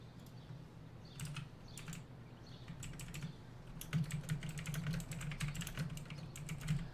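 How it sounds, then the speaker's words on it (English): Typing on a computer keyboard, soft close-up key clicks in quick irregular bursts, faint under a low steady background hum. "All right, I'm typing up the stuff for us."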